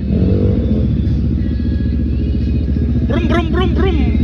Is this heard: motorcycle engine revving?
yes